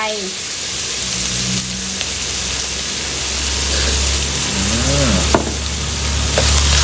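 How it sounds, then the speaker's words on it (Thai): Oyster sauce hits stir-fried spaghetti in a hot pan, setting off loud, continuous sizzling and frying with stirring noises. A voice is briefly heard in the background. "เอาแล้วใส่น้ำมันหอยลงไป"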